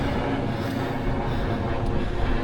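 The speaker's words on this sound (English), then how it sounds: "Curious to see what the plane sounds like." An airplane passes overhead as it comes in to land, a broad continuous roar that stays loud and steady throughout, with no talk over it.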